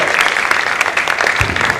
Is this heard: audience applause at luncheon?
yes